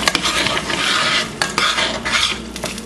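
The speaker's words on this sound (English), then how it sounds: "I'm pouring the pepper in the pot" Thick hot pepper sauce goes into a cooking pot with a steady wet sizzle and stirring scrape, broken by a few sharp metallic clinks of utensil against pot, loud and close with no talking.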